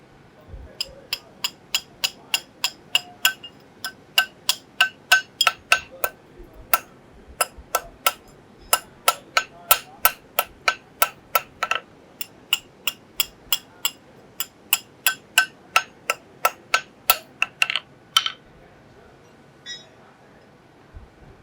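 Steel pritchel being hammered on an anvil by a blacksmith, a long run of sharp, ringing strikes at a fairly steady, brisk rhythm, close and clear, with no talking over them.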